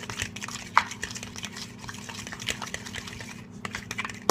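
Eggs with a splash of milk being mixed in a bowl, giving a steady scraping and clinking stir that runs for several seconds, close and fairly loud, with no talking.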